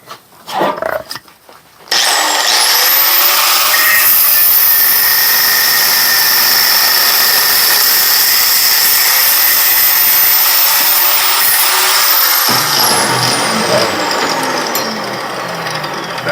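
A power tool cuts through metal while an axle yoke puller is being made. A few sharp knocks come first, then a loud, sustained, high-pitched grinding whine holds steady for over ten seconds before shifting pitch and tapering near the end.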